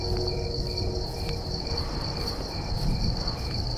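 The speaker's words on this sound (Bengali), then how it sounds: "ঝিঝি পোকার ডাক আর শুকনো বাঁশপাতা মারানোর মড়মড় শব্দ মিশে" Crickets chirp steadily at night in a bamboo grove, a dense, even insect trill that fills the scene with no voices.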